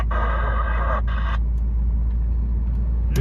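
A passenger car drives by on an icy mountain pass in Yakutia: a steady, loud engine and road rumble, with a brief tonal hum at the start that fades as it goes past.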